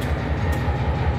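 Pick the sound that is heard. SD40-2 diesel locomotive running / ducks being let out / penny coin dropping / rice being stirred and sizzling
SD40-2 diesel locomotive running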